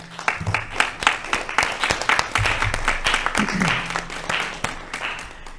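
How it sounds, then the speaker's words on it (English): A council meeting audience in Oak Park gives a public safety officer a round of applause, with dense, sustained clapping from a nearby crowd filling the room and holding steady throughout. "we need to give him a round of applause"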